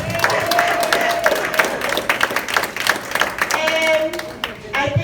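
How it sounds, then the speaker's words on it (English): Audience at a Panama residency celebration clapping and cheering, a dense burst of applause with shouts and whoops, fairly close and loud, with voices calling out over it and tapering near the end. "Give me a clap right there."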